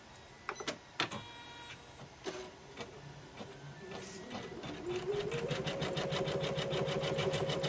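An embroidery machine stitches the outline of an appliqué bear, starting with a few clicks and thumps before settling into a fast, steady rhythmic stitching hum that grows louder, close up.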